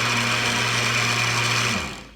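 A kitchen blender whirs steadily while mixing a strawberry banana smoothie with milk, a constant motor whine that spins down and fades at the end.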